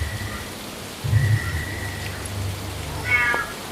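A cat meows at moderate distance, a couple of short calls amid a steady background hiss like rain, with no talk over them.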